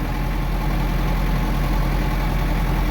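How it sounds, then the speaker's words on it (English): A heavy tractor engine runs loud and steady, close by with a low rumbling throb, held at high revs the whole time. "the tractor's loud and I'm giving it a little more gas to get us up there quicker"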